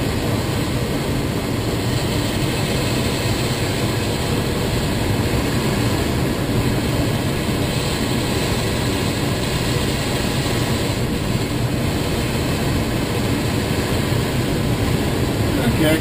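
Steady loud drone of a small fixed-wing airplane engine and airflow in slow flight during a 90-degree left turn, heard continuously from inside the cabin with no break.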